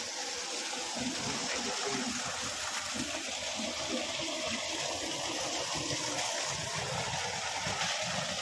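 Water gushes from a temple in a constant rushing flow, close and steady, with no clear voices over it.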